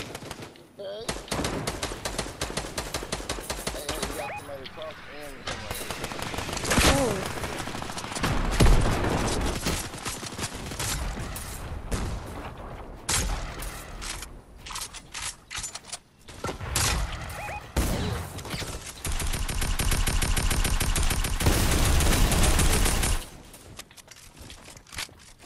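Dense automatic and burst gunfire from a Fortnite match, loud and sustained through most of the stretch with brief lulls, mixed with game effects and a voice talking over it at times.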